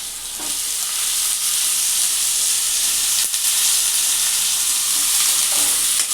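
Chopped potatoes tipped into a gram flour mixture frying in a pan, producing a loud, dense, hissing sizzle that holds steady, with a few soft knocks of a spoon; no one speaks.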